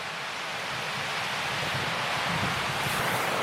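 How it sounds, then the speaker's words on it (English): Roaring river rushing below a parked campervan, a dense steady broadband wash of water noise, continuous and moderately loud with no voices. "The river is roaring down there"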